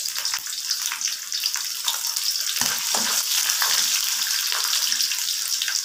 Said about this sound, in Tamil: இது செவந்த வட்டி பூண்டு, வரமிளகா போட்டு இதையும் வதக்கிக்கலாம்.